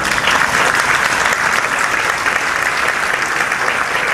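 An audience at a book presentation breaks into sustained applause, a dense, even wash of clapping that stays loud and steady throughout.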